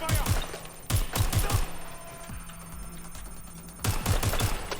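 Gunfire in the video game Watch Dogs Legion comes in loud, rapid bursts of close automatic shots, with two clusters separated by a quieter stretch of lingering echo.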